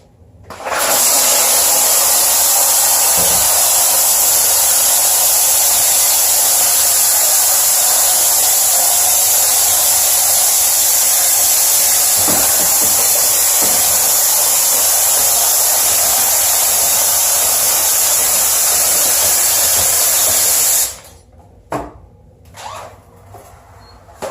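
A HomeRight SteamMac steam cleaner blasts the shower, a loud steady hissing rush of steam running for about twenty seconds before cutting off, followed by a few faint knocks.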